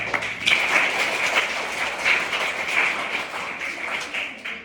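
Children in a government middle school classroom clap together for a classmate, a dense, steady patter of many small hands that holds throughout without any talking over it.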